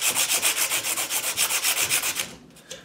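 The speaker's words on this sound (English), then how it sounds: "So this is some very fine sandpaper to be used for metal." Very fine metal-grade sandpaper rubbed on a metal pin tumbler lock plug, a close, steady back-and-forth scratching in about fifteen quick even strokes that stops abruptly near the end, no talk.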